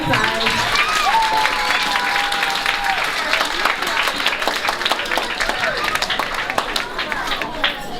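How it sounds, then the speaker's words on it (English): A school audience applauds at a primary school prize giving, steady dense clapping filling the whole stretch with occasional cheers and voices mixed in. "Can we have another round of applause?"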